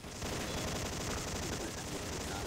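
Rapid submachine gun fire, an MP5 in a shooter game, rattles as one dense continuous burst lasting the whole moment, loud and steady with no pauses.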